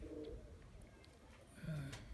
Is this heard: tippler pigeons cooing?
yes